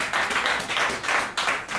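Church congregation clapping in praise of the Lord, a steady, rhythmic round of many hands applauding together, filling the room with no voices.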